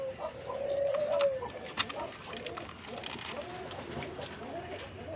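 Magpie pigeons, a female sitting on eggs, give faint, low rolling coos at close range in a quiet loft, with a brief higher call and a few light knocks early on.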